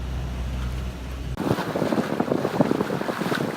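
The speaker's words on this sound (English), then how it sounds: "The wind picked up from a nice direction, and look at what happened." Wind roars across a Bounty 2 sailboat out on Lake Erie, heavy buffeting rumble against the microphone that thickens sharply partway through as the gust picks up, with a rushing hiss of water under it and no talking.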